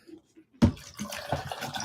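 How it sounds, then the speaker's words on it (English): Water is poured into a drink bottle, a quiet start giving way to a sudden gushing splash that continues as a steady trickling fill close by. "I've finished it, so I'll add water."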